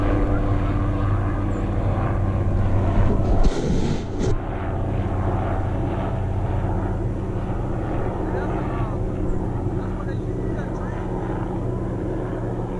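A low-flying propeller airplane drones loudly overhead near a power line in rural North Carolina, a steady engine roar throughout that briefly shifts as it passes, while someone talks over it.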